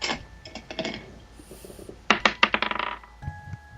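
Dice clattering and tumbling in the visual novel game Cinderella Phenomenon, two bursts of quick rattling clicks, the second louder and longer, close and clear with no talk.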